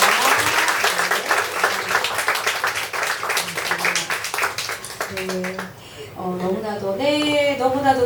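Sustained audience applause fills a hall at a poet's book concert celebrating a poetry collection, dense rhythmic clapping for about five seconds before tapering, then a voice begins speaking with faint clapping lingering underneath.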